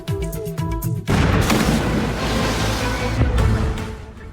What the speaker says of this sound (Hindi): सरकारी मुख्यालय पर हमले के बाद जोरदार धमाका हुआ, जिससे पूरा इलाका दहल गया।